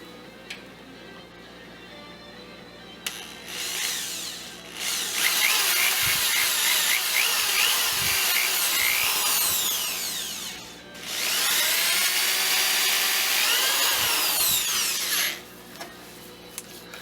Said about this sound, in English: I'm going to drill 2 pilot holes